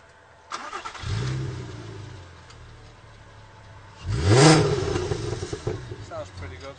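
A Mk4 VW Golf R32 with a Milltek exhaust starts up and gives two throaty revs, the second louder and rising higher. Someone talks over the engine.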